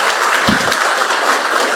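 Dense, continuous applause from a crowd, loud and steady throughout the short stretch.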